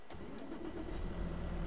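A Fendt 700/800 Vario tractor engine in Farming Simulator 22 cranks then catches into a low rumbling idle, steady and fairly quiet, with a few short clicks at the start.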